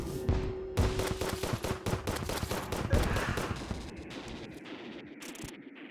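In Terraria, rapid gunfire peppers the player character, a fast rattling run of sharp shots that thins into sparser, fainter cracks before fading out.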